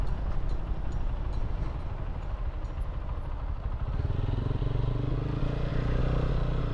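A motorcycle weaves through a traffic jam on Bijoy Sarani in Dhaka, its engine a steady, close, loud drone mixed with road rumble and clatter, without a break for the whole stretch.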